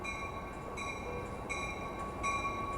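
An Amtrak train at Oakland station rolls steadily past, a continuous rail rumble with a repeating high metallic ringing tone pulsing roughly every three-quarters of a second, moderately loud and without speech.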